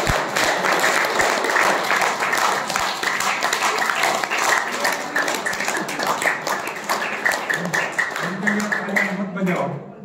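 Dense, loud applause from a crowd fills the whole stretch, steady and unbroken, with a few voices mixed in near the end.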